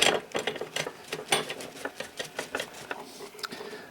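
A hand tool turns a screw during silent block replacement on a cylinder block, giving a quick series of small ratcheting clicks and scrapes, close and fairly quiet, with no talk.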